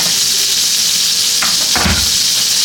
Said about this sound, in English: See that sizzle, don't you?